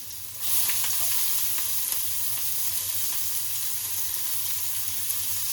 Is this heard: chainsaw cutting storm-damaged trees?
no